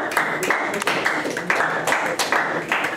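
A school class clapping together, a steady rhythmic patter of hands at moderate loudness, close and continuous throughout.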